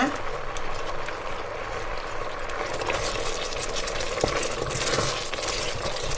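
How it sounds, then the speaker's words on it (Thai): Thai curry paste being stirred and slowly simmered in coconut cream in a pan, a steady close bubbling and sizzling hiss with faint scraping stirs throughout. "ผัดไปเรื่อยๆค่อยๆค่ะค่อยๆเคี่ยวนะ"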